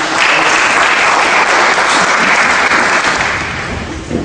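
A French awards evening audience breaks into loud, sustained applause from a large crowd, dense and steady throughout and easing slightly toward the end, with no voices over it.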